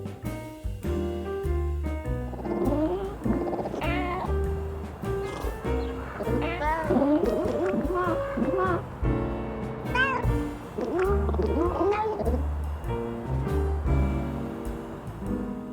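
Repeated cartoonish meows rise and fall over bouncy game music, several short cat calls scattered across the track.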